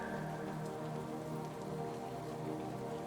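Rain falls steadily in a forest, a dense, even patter on leaves and ground that continues without a break and without any voices.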